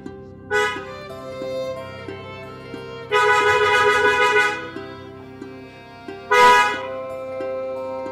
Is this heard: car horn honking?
yes